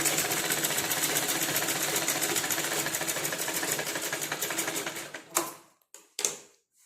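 A sewing machine stitches a blouse patti seam in a fast, steady mechanical run for about five seconds, then stops and gives two short bursts of stitching.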